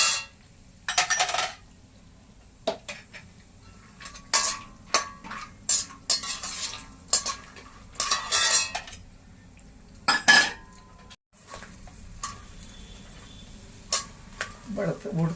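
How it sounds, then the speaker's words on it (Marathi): Almonds are roasted in a pan, with scattered clinks, scrapes and rattles as they are stirred. The sounds are close and come in irregular bursts with quiet gaps between them. "आपण बदाम भाजून घेऊया"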